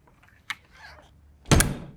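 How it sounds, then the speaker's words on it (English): Folding entry steps on a 2023 KZ Escape E211RB travel trailer are folded up and clipped inside the door, making a light click and then a solid, close metallic thunk. "they are so easy to simply fold up and clip inside the door"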